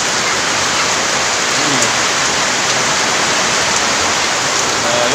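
A heavy downpour of rain pours down in a loud, unbroken hissing roar that stays constant throughout.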